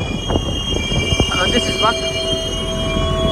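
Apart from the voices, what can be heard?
small train passing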